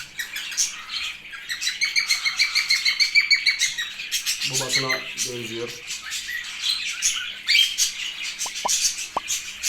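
Young budgerigars chirp in rapid, continuous high chatter, with a person briefly speaking partway through.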